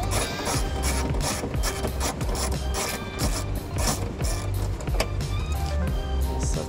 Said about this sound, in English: Now we'll take our 10 millimeter socket, take the lower anchor out.